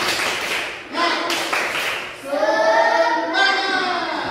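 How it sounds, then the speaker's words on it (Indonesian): Primary school pupils do a rhythmic spirit clap in a classroom, short bursts of clapping and taps mixed with children's chanting voices, loud and close. "Tepuk semangat."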